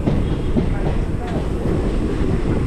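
A train at Chalakudy railway station gives a loud, steady rail rumble that fills the short stretch, with a faint murmur of voices low in the mix.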